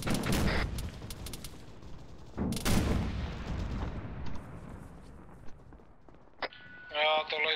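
Gunfire in the military shooter game Arma III: loud bursts of shots and heavy impacts up front, then sparser, fainter shots, with players talking over the action.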